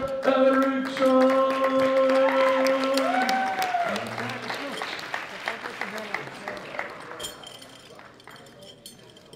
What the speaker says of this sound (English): A big round of applause hailing from Sweden, Alexander Eriksson.